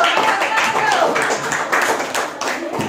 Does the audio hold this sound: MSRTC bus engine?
no